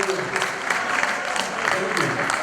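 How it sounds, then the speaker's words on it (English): Moderate audience applause at a university welcome address, uneven clapping from a gathered crowd with faint voices mixed in. "So please clap for them."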